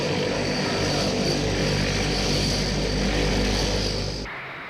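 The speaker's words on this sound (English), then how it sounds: "This Franco-German plane, the Transall troop carrier, has Rolls-Royce engines built under license on the continent." A Franco-German Transall troop carrier with licence-built Rolls-Royce turboprop engines roars close by, a loud, steady propeller drone with tonal whine that holds for several seconds before cutting off abruptly near the end.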